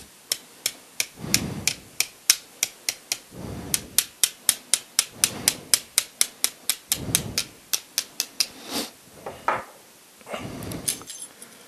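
A hammer strikes a stainless steel twist ring to close its gap, roughly thirty sharp metallic taps in a quick, steady run, close and loud, with brief pauses between bursts.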